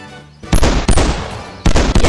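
A distorted, deep-fried Glock in a Bonelab game mod fires three very loud, harsh, overdriven gunshots, each a sudden blast with a sustained crackling tail, the last two spaced about a second apart; no talking.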